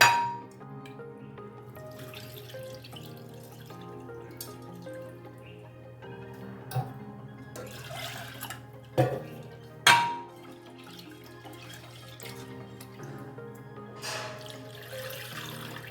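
A bowl of chana dal is rinsed in water for puran poli. Soft trickling and a few distinct splashes and clinks stand out, close and fairly quiet, against a faint steady hum.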